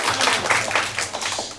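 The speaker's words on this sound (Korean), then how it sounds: "저한테 박수 쳐주신 거죠?" Students at a high school reading event clap in a brief burst of close, dense applause, uneven and lively, fading slightly toward the end.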